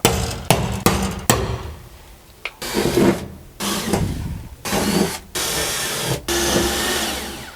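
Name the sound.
punching and drilling holes in carbon fiber battery box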